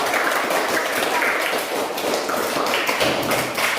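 A classroom of students claps after a group presentation, a loud, dense run of rapid hand claps that stays close and continuous throughout.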